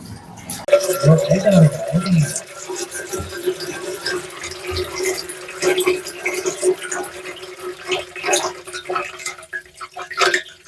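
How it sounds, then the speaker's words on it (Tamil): Water pours from a tap while a container fills, a splashing, gurgling flow heard in bursts alongside people talking nearby, uneven in loudness over the whole stretch. "இப்போ தண்ணியை விட்டு கொண்டு இருக்கிறேன்."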